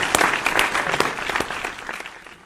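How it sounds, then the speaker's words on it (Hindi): Enthusiastic applause from an audience at a kavi sammelan poetry gathering: dense, steady clapping that fades slightly toward the end. "जोरदार तालियों के साथ"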